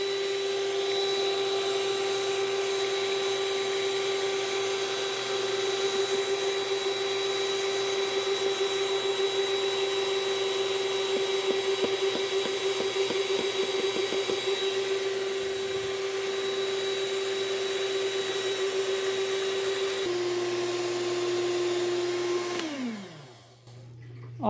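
An electric stand mixer beats bread dough while wheat flour is added gradually, giving a steady close motor whine with a constant hum that winds down and stops at the end.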